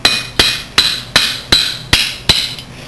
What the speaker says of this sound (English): And I'm just going to gently tap it out with a hammer.